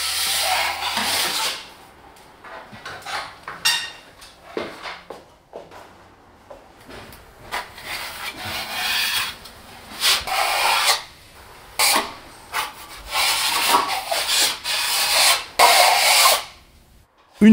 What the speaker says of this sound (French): Étale-le avec une truelle lissante par-dessus les joints.